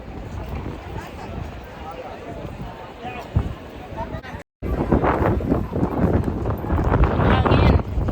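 Wind buffets a microphone outdoors on a street in Germany, a rough, rumbling roar that swells louder toward the end, with people talking through it.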